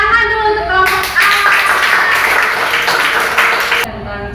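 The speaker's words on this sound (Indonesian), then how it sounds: "Tepuk tangan dulu untuk kelompok A" A classroom group claps for group A's presentation, a dense burst of hands across most of the clip, with voices around it at the start and end.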